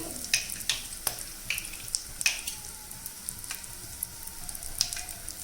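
Asafoetida dropped into hot oil in a pan sizzles with soft crackling and small irregular pops, fairly quiet and steady with no talk.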